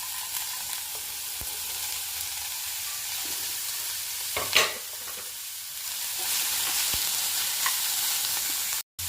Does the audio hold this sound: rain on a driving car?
no